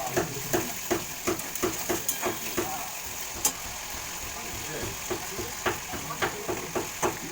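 A spoon scrapes and stirs a spice mixture with sugar in a frying pan for a banana-flower curry, making steady rhythmic strokes over a soft sizzle, with no talk.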